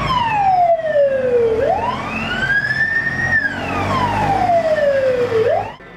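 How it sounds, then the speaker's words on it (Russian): A loud building fire alarm siren wails nearby during an evacuation drill in Khimki, sweeping slowly down and then up in pitch in long cycles before cutting off. "Благодаря громкой сигнализации жильцы самостоятельно покидают здание"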